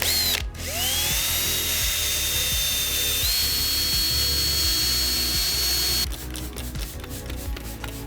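A car headlight is sanded with 3000 grit sandpaper on a power tool that runs with a loud, steady high whine, then breaks into uneven pulsing bursts near the end.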